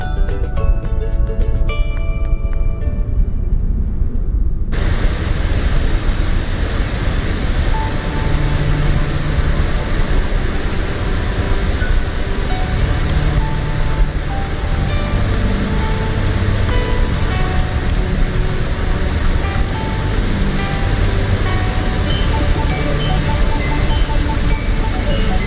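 A PMDG 777-200ER jet airliner roaring past in Microsoft Flight Simulator, a loud broadband engine rush sustained throughout after a brief musical passage at the start.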